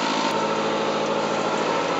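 A marine diesel engine with an inboard/outboard drive runs out of the water on the hard while warming up, a steady, loud, close drone with an even, unbroken throb and no talk.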